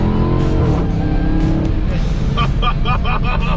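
An 800-horsepower car in sport mode accelerates hard, its engine note loud and close and climbing in pitch before easing off, while people talk and exclaim over it.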